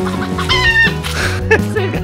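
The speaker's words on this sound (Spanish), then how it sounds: "Ese gallo, hasta el gallo vecino, ¿qué hace aquí?" A rooster crows close by in a jungle clearing, its drawn-out call rising and falling over about two seconds, with clucking fowl around it and no talk.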